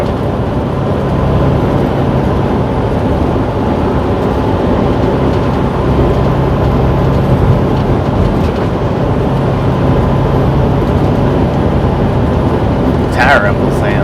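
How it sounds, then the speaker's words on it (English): Truck tires rumble steadily on a highway between Rawlins, Wyoming and Park City, Utah, a loud continuous low roar heard from inside the cab. "Tire rumble sound."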